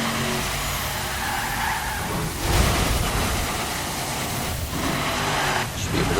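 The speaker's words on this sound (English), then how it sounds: "Should be able to drive it, right? It's a monster truck." A monster truck in The Crew racing video game drives with loud engine noise and sustained tire skidding and squealing, with swelling surges near the middle, close and continuous with no talking.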